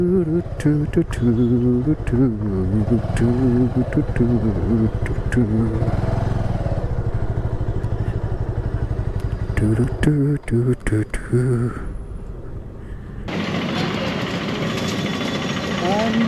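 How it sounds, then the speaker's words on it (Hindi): A motorcycle being ridden and parked near Golconda Fort in Hyderabad, its engine chugging close and loud and pulsing with throttle changes, then settling into a steadier, different tone at the end. "So I'm going to park my bike here."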